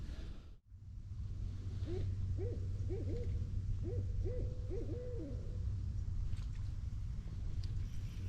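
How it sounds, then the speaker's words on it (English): Barred owls hoot at dusk near a fishing spot, a series of rhythmic hoots at moderate distance over a steady low outdoor hum with wind. "The barred owls are very active."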